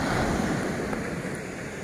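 Sea waves wash onto Lamai Beach on Koh Samui, a continuous loud surf roar with wind buffeting the microphone, close and unbroken.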